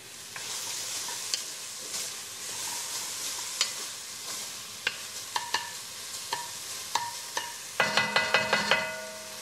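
Mixed corn, peas and carrots frying in a pan over high heat: a steady sizzle broken by repeated scraping stirs and clinks of a utensil, growing busier toward the end.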